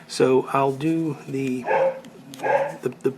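A dog barks several times in quick bursts, with a small yip near the end. Someone talks over it while working on a cob pipe tenon with epoxy indoors.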